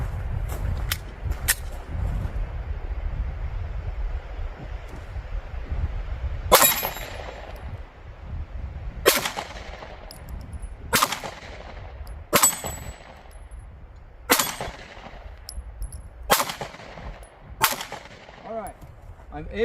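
Gunshots from a rifle fitted with a Gideon Optics Judge XL sight ring out one by one at an outdoor range, eight or so sharp cracks spaced a few seconds apart, each with a metallic ring from a steel target.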